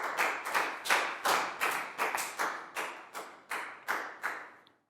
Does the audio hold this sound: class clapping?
yes